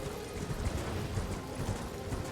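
Horse hooves clip-clop in the video game Elden Ring as riders approach, a steady rhythmic trotting beat heard up close and fairly loud, with no talking.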